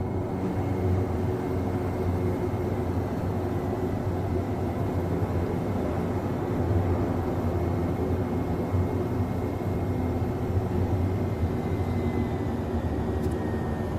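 A water-scooping aircraft in a flight game flies and descends, giving a constant, heavy engine drone that holds evenly for the whole stretch with no talk over it.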